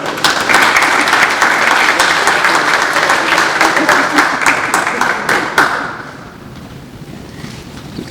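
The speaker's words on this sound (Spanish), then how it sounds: "me dieron 2 aplausos" An audience at the VI Dominican Congress of Philosophy opening in Santo Domingo gives loud, dense applause, with sharp individual claps standing out, that fades out after about six seconds into quiet room tone.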